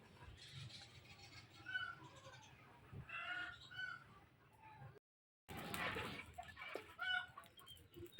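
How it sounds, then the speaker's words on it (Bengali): Chickens cluck in a chicken house beside a rural home, several birds giving repeated close clucks and calls with a brief cut of silence partway through. "এটা হচ্ছে মুরগির ঘর হচ্ছে পাশেতে"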